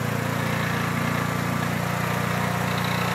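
A Vevor commercial grain mill running as it cracks wheat berries on a coarse first grind, a loud steady motor drone with a constant low hum and grinding whir, close and unbroken, no voices.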